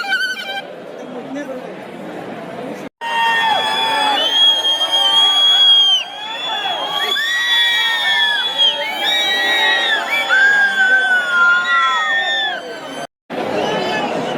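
A packed crowd at a Karaga temple festival procession in Kengeri chatters, whoops and cheers loudly and continuously, with shrill whistle-like tones rising over the noise and brief breaks in the din.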